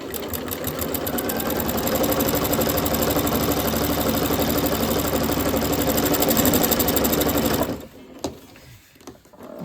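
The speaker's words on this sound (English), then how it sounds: "And now I'm just going to line up all these edges over here and sew." A sewing machine stitching binding along the edges of a quilted table runner runs fast and steady with a close mechanical hum and rapid needle rhythm for about eight seconds, then stops, leaving light handling sounds.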